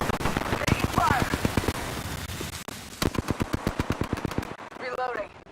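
Rapid bursts of automatic gunfire from the video game Apex Legends, loud and close, with a steady stream of shots broken by a short pause and then resuming, under game voice lines and sound effects.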